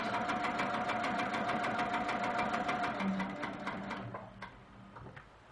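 Sewing machine stitching a quilt border: a fast, steady mechanical whirring chatter close by that keeps going, then slows and fades toward the end.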